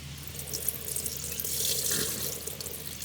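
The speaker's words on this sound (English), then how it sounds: "the oil is then poured into this separatory funnel" Plastic-derived oil from an HDPE fuel reactor pours steadily into a separatory funnel, a continuous close liquid rush with faint trickling, no voices.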